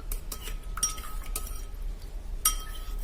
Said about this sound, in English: you stir until all the gel has relatively dissolved in the isopropyl alcohol